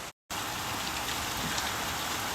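Steady rain falling outdoors in Shillong, a dense even hiss of drops on surfaces that cuts out for an instant near the start, then continues loud and close with no voices.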